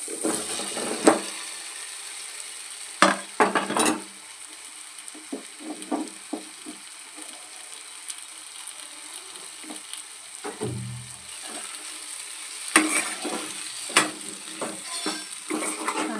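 Raw banana pieces stirred and fried in a pan produce a soft continuous sizzle, broken by several sharp scraping and clattering bursts of a spatula against the pan, up close with no talk.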